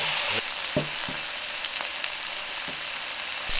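Wagyu and marinated steaks sizzle and fry steadily in a hot pan, a close, continuous crackle broken by a few soft clicks and knocks of handling.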